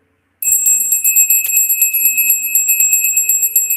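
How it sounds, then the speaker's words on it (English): A small hand bell is rung, giving a bright, close metallic tinkling that starts abruptly and keeps chiming in quick repeated strikes with long shimmering overtones. "let's ring the bell"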